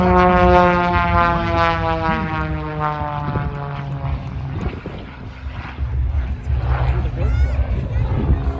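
A Super Chipmunk propeller airplane's engine drones loudly during an air show aerobatic routine, pitch sliding and wavering as it maneuvers and hangs on the prop, with a voice talking over it.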